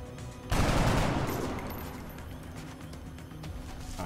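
Gunfire from the video game X-COM: Long War erupts as a loud, dense burst about half a second in, then rolls off into a long fading tail with no talk over it.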